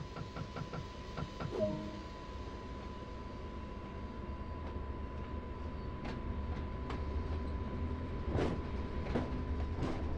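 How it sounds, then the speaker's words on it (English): BR 155 electric locomotive from Train Sim World accelerating, with a steady electric whine and a low, rising traction rumble, plus occasional clanks and rail knocks, close and continuous with no voices. "you will see the locomotive gradually move up to that tap index as more power gets applied to the traction motors"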